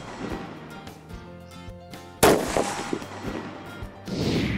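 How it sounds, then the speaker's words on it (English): A single loud rifle shot fired during deer hunting practice, a sharp crack at mid-clip followed by a short outdoor echo and rumble, with faint handling noises before it. "and take the shot."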